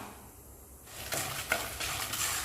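Whole spices — cumin, black pepper, coriander seeds and dried red chillies — dry roasting and stirred in a clay pot, a soft steady rustle and scrape that starts quiet and grows fuller, close and alone.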